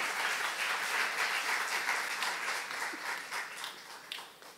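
A church congregation at a youth service breaks into sustained, close, energetic applause, a thick continuous wash of many hands that tapers slightly toward the end.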